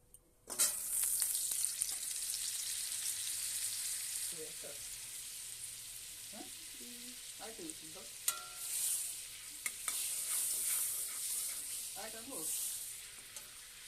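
White oil and butter sizzling in a hot kadai for paneer butter masala, a bright steady hiss close up with a few utensil taps, while someone speaks over it.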